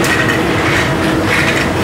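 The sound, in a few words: metro train wheels clacking over rail joints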